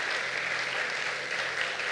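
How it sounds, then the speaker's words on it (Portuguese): A church congregation applauds steadily during a worship service, a dense, continuous wash of clapping from many hands that holds at an even level throughout with no talk over it. "Quantos podem dar uma salva de palmas para o nosso grande Deus?"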